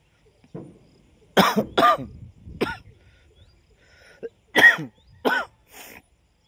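A person coughs persistently in a series of harsh, throaty bursts, two close together, then another, then a few more after a pause, close and fairly loud with no talk.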